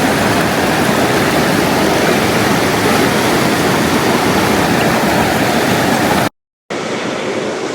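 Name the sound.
river water flowing past mountains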